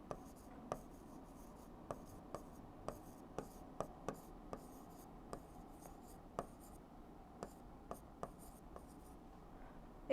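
Chalk or marker taps and scratches across a classroom board in faint, irregular strokes, a dozen or so sharp ticks spread over several seconds with no talking.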